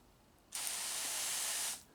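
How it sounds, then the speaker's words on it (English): A spray bottle mists water onto moss in one steady hiss of a little over a second, close and clear, starting and stopping sharply against a quiet background. "just give the holes a spray if you want to water the insides"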